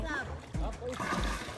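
A small elephant splashes water, with watery splatters and sloshing close by while people talk throughout.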